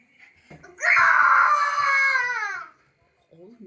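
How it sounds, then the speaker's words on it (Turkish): A young boy playing ball lets out a loud, sustained high-pitched scream lasting about two seconds, preceded by faint thumps and followed by a brief quiet and the start of an adult voice. "niye bağırıyorsun?"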